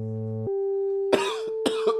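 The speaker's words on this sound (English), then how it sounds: "Y'all gonna hear me coughing, sniffling and shit." A sick man coughs twice in short, harsh bursts close to the microphone, over sustained droning tones from a Moog synthesizer setup.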